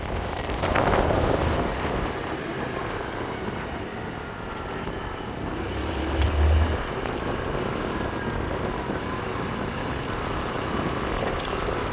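A Neco Alexone sport scooter rides over potholes, its steady engine and road rumble mixed with heavy wind buffeting on the microphone and a brief low thump partway through, with no talk.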